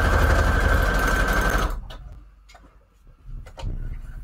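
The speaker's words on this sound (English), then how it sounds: "let's do a straight stitch here" A sewing machine runs a regular straight stitch on its longest setting through scrap paper, a loud steady mechanical whir that stops after about a second and a half, followed by quieter handling clicks and rustles.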